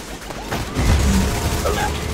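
Gunfire in The Division video game on Xbox One: a dense, loud burst of shots that starts about three quarters of a second in and continues steadily to the end over a rumbling low boom.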